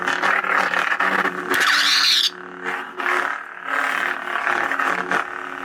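A loud Korbanth Graflex Titan Class lightsaber drones with a deep, crisp hum. Repeated swing swells and a bright sweeping whoosh in the middle rise over the constant low buzz.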